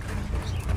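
Pet pigeons being fed cooing softly, low murmuring coos repeating steadily and close by throughout a short moment.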